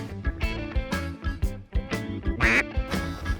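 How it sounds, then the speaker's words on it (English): Ducks quacking in a busy, overlapping chorus, several birds calling close by in rapid bursts with no talking. "There's birds around us now."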